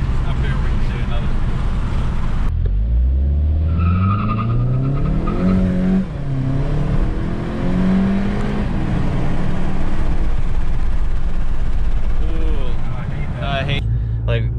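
A Volkswagen GTI accelerates hard, its engine note climbing through several rising gear pulls with shifts in between, loud from inside the car while people talk over it.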